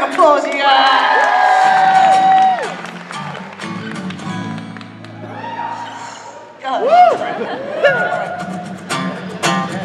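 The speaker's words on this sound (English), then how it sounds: "Disco, give Disco a round of applause, you guys" Crowd at an anime convention opening ceremony cheers and claps, loud and sustained, with shouting voices and an amplified voice speaking over the noise.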